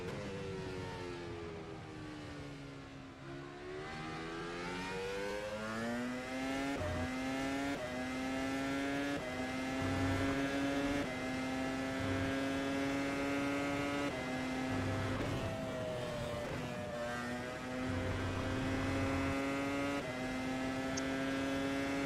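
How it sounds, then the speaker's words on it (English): Steady, high-pitched drone of a naturally aspirated V10 Formula car engine in the rFactor 2 racing sim at Silverstone, holding near-constant revs with slight dips and rises as it lifts and shifts, continuous and close throughout. "it is a V10 aspirated engine"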